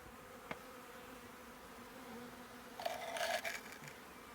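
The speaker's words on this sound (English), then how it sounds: "the bees will find their way in" Bees from a newly installed Lambrecht hexagonal deep hive buzzing nearby outdoors, a faint steady hum that swells louder for a moment near the end.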